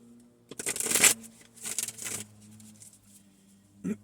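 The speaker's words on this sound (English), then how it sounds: "So let's go ahead and shuffle these." A deck of affirmation cards is shuffled close up in two quick riffling bursts, followed by a brief tap of the cards settling.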